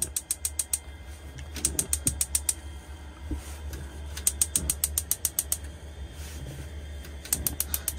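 Gas hob rings in a caravan kitchen are lit with rapid clicking piezo igniter bursts, several runs of sharp ticks repeated across the span, close and fairly quiet, with no talking.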